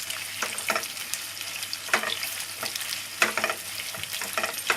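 Curry leaves, whole peppercorns, dried red chilli and chopped onion fry in hot oil, a continuous sizzle broken by repeated spatula stirs and scrapes against the pan, close and fairly loud with no talking.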